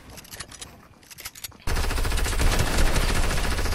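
Loud, dense Fortnite gunfire bursts in abruptly and holds as a sustained rapid volley of close shots, with no talk over it.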